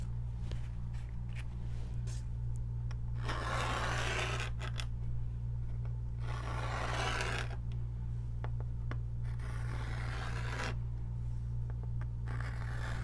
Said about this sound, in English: I'm just kind of getting out the excess paint.